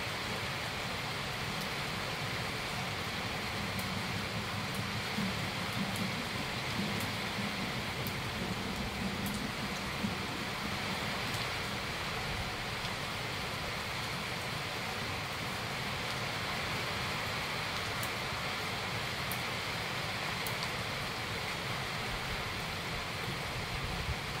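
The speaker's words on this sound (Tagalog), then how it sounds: "Napakalakas ng ulan!" Heavy rain pouring steadily, a dense, loud, unbroken hiss of falling water that holds level for the whole stretch with no voices.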